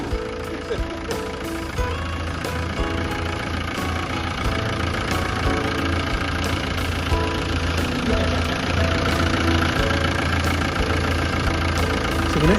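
A Land Rover Defender 110 diesel engine idles after a lift pump replacement, with a loud, steady, rough clattering rumble and a knocking rhythm close by.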